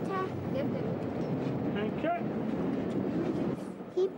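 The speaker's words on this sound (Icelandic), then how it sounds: "Og þá fer lestin af stað." A train runs on rails with a steady rumble and occasional squealing tones, while a narrator talks over it.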